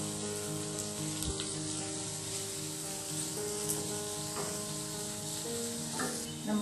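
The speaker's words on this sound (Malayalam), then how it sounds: "ആദ്യം നമുക്ക് സവാള പച്ചമുളക് ഇഞ്ചി ഒന്ന് വഴറ്റണം." Onion, green chili and ginger sautéing in a pan, giving a steady sizzle and hiss throughout with a few faint stirring clicks, no talking.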